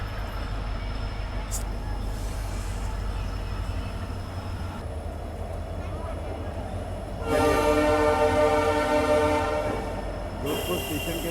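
Passenger train arriving at Jodhpur station near the Indo-Pak border, a steady rumble of rolling wagons with a loud horn blast midway and another shorter one near the end.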